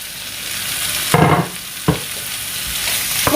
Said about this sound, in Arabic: شلطها درتها تشحر هكا مع زيت الزيتون